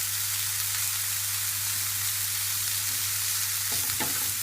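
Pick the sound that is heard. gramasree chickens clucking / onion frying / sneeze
onion frying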